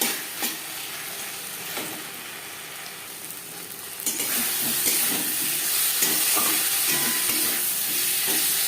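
Spices stirred and frying in a pan for a silver carp and potato curry: a steady close sizzle and hiss with soft scraping strokes, growing louder and fuller about halfway through.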